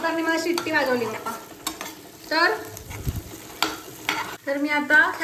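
Tomatoes sauté in oil with garlic-coconut paste, turmeric and spices, a spoon scraping and stirring in bursts against the pan over a steady sizzle, close and fairly loud.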